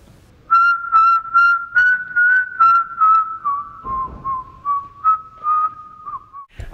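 A person whistles a clear melodic tune in a series of connected, gliding notes, loud and close, with no talking.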